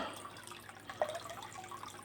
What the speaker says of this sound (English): So if I want a bit of a sound of a waterfall